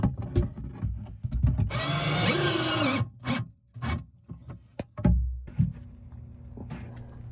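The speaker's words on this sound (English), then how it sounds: "To attach the battery box to the treated wood, I'm going to use some rust-proof sheet metal screws" Rust-proof sheet metal screws driven into treated wood with a power driver, fixing a battery box: short bursts of whirring motor and grinding bite, a long sustained drive in the middle, nearby and fairly loud.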